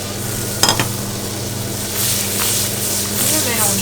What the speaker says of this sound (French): Vous le mélangez et vous laissez réduire jusqu'à l'obtention de la consistance souhaitée.